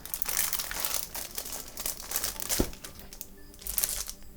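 Plastic wrap crinkles and rustles close by while a HyperX Alloy FPS RGB full mechanical gaming keyboard is unboxed, a steady irregular crackle over several seconds with a brief louder crunch midway.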